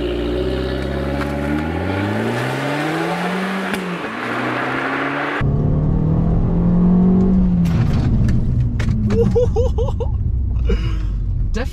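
An automatic Abarth car accelerates hard from a launch, the engine note climbing steadily through the revs, dropping at a gear change, then pulling again with road and wind noise building loud and close.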